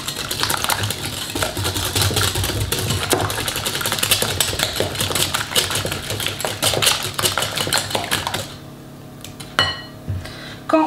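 Eggs and sugar being whisked together in a salad bowl, a fast continuous rattling clatter of whisk against bowl for about eight seconds, then stopping with a few scattered clinks.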